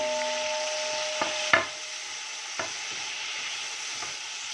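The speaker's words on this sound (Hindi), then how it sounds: "चलें जी टमाटरों को भी इनके साथ फ्राई कर लेते हैं।" Tomatoes fry with spices in a pan for a chana pulao, giving a steady close sizzle throughout, broken by a few sharp clinks and scrapes of a stirring spoon against the pan.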